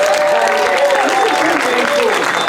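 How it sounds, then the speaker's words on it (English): A dense, steady roar of clapping from a large cinema audience, loud and unbroken throughout, with faint voices mixed in. "let's everybody give the Belcourt a big round of applause"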